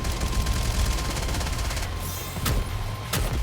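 Rapid gunfire from the NIKKE video game, loud and dense, with sustained automatic bursts broken by a couple of sharper single shots and no talk over it.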